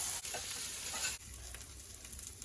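Jerk tofu fries in a pan, a close, steady crackling sizzle of hot oil that hisses continuously with small pops and a brief stir partway through.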